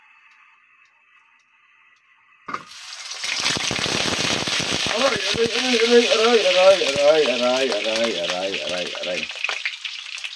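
An egg hits a dry, oil-free pan and bursts into loud crackling sizzle, which then runs steadily and densely to the end while a voice exclaims over it.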